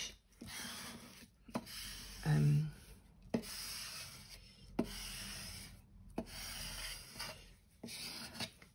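Paper pieces stuck onto a fairy tale journal page are burnished, soft close rubbing strokes repeating in short bursts with brief pauses between them, quiet overall.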